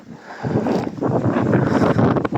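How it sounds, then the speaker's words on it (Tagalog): Steady, loud wind buffeting the microphone outdoors, a broad rushing roar that swells and stays strong throughout with no voices. "ang lakas ng hangin dito. Ang sarap ng hangin. Ang lamig ng hangin."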